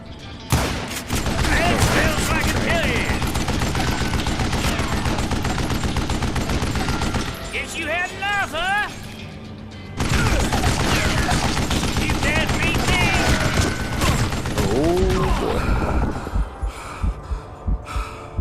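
Rapid gunfire in the Western shooter Call of Juarez: Gunslinger, dense bursts of shots crackling almost continuously with a short lull midway, loud and close, mixed with game music and effects.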